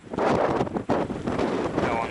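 Strong gusty wind buffets the open steppe, a loud, continuous roaring rush with a brief lull partway through before surging back.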